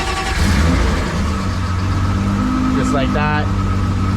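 A custom car's engine turns over and settles into a steady running rumble, close by, with someone talking over it.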